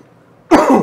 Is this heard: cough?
yes